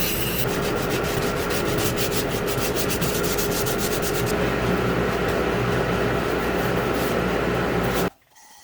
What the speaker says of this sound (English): I'm just using a Dremel with a drum sander on it to kind of get smoother contours